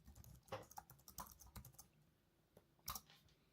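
Someone types on a computer keyboard in a quick, uneven burst of clicky keystrokes, followed by a pause and a couple of louder key taps. The sound is faint and close, with no voices.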